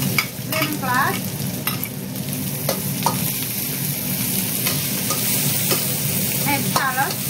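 Chopped coriander, lemongrass and shallot fry in a pan with a steady close sizzle, punctuated by repeated scrapes and clinks of a utensil stirring throughout.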